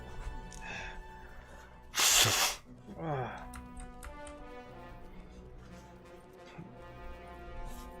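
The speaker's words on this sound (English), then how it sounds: "Something in here is making me sneeze." One sharp, loud human sneeze bursts out about two seconds in, followed by a short snort or sniff, over quiet background music from a Lord of the Rings Online game.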